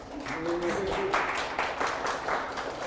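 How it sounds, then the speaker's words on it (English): An audience at a tech conference meetup breaks into a short round of applause, a moderately loud patter of clapping that swells in uneven bursts. "we need to have the round of applause for Justina"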